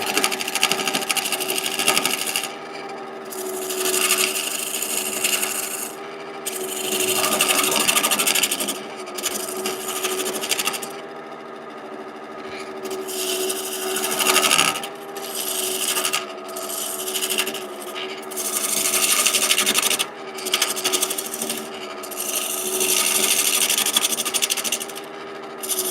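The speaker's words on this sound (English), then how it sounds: "I'm going to use the carbide to make the cylinder round," Carbide tool turning a wooden carving mallet on a lathe to make the cylinder round, producing a steady motor hum overlaid by loud bursts of scraping and rasping as the cutter meets the spinning wood, pausing and resuming repeatedly.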